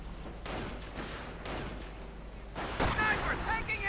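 Gunfire and strafing runs in a WWII strategy video game, a series of sharp broadband blasts and thuds recurring every half second or so, with a heavier burst near the end, continuous battle noise underneath.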